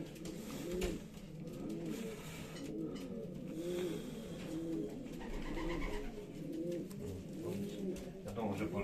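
Racing pigeons coo in repeated soft, low rolling calls, near and steady throughout, with faint background noise and some passing traffic underneath.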